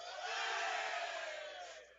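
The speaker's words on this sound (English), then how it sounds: "the crowd is into it today" A stadium crowd cheers and yells steadily at a girls high school soccer game, a broad sustained roar heard from a distance that swells and then fades slightly.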